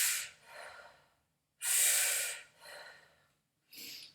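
A person demonstrates vertical-style breathing, several audible breaths close up, each a sharp airy inhale followed by a softer exhale, alone in quiet.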